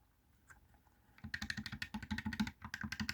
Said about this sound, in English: And then you have the ABXY buttons. These are really clicky and nice.